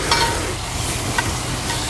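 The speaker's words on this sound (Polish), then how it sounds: "Bierzemy się za smażenie boczku." Bacon frying in a Broil King pan over a campfire, a steady dense sizzle with occasional faint stirring scrapes, continuous and fairly close.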